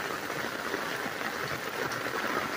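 Steady rain hissing continuously, a dense even wash of drops with no pauses and no voices.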